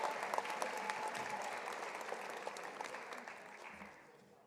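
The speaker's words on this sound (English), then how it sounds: "Please clap for Jennifer Ann Maybe." Applause from an audience at a graduate hooding ceremony, a crowd clapping steadily at moderate distance and slowly tapering off toward the end.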